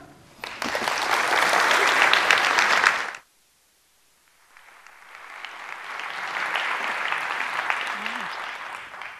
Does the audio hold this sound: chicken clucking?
no